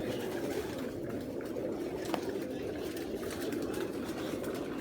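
A male Missay breed pigeon cooing, a low, continuous, throaty murmur held steady for several seconds at close range.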